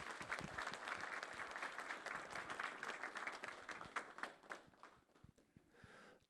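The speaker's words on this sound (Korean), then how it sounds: "여러분 박수로 환영해 주시면 대단히 좋겠습니다" An audience of Anseong citizens claps steadily to welcome a speaker at a public gathering, a dense sustained wash of applause that thins and fades out toward the end.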